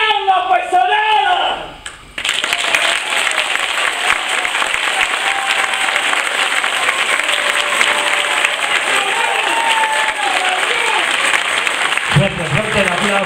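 An audience at a folk music show bursts into loud, sustained applause after a sung passage ends, steady dense clapping from a crowd that cuts off abruptly near the end.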